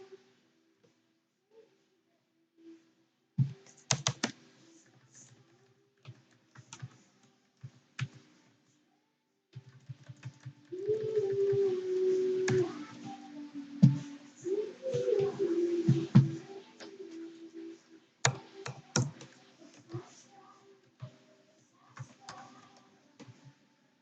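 Computer keyboard typing comes through as scattered sharp clicks and short bursts of keystrokes, separated by pauses, with a denser stretch of sound in the middle.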